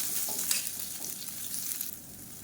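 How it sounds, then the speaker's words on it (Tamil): Sliced onions sautéing in a pan, a continuous close crackling sizzle with light stirring, alone without voices. "வெங்காயம் ரொம்ப வதங்கணும்னு அவசியம் இல்லை லேசாக வதங்கினா போதும்"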